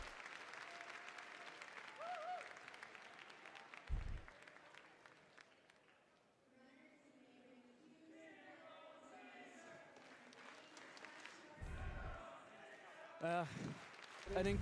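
A large crowd applauds steadily at the WCA Worlds speedcubing stage, a broad wash of clapping that dips midway and swells again, with faint voices and a few thumps near the microphone.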